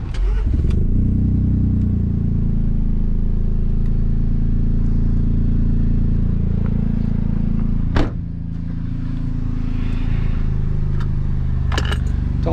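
A tuned Stage 2 BMW 320 engine roars loudly and steadily under hard acceleration, a dense drone that dips briefly with a sharp knock before building again.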